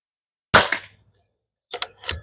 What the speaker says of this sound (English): I like shooting pellet rifles.